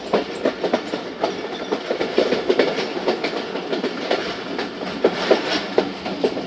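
The Khyber Mail passenger train rolls along the rails, a steady loud rumble with a rhythmic clickety-clack of wheels over rail joints, heard from on board with no talk.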